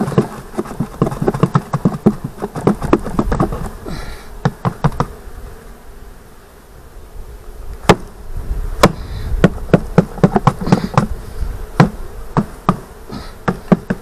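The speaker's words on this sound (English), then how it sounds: "Then we're going to dump these bees" Honeybees buzz steadily at close range while being shaken and dumped into the bottom of a hive on a cool spring evening, punctuated by many sharp knocks and thumps from the box and frames.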